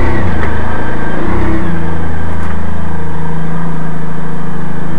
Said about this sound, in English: I'm just going to warm up my bike today.